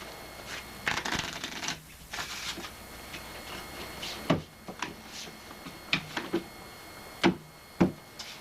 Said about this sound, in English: go ahead and shuffle my deck and I'm going to shuffle yours